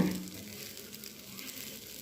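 A dosa sizzles on a hot griddle after being flipped and given a drop of oil, a steady, fairly soft crackling hiss that continues evenly throughout with no voices.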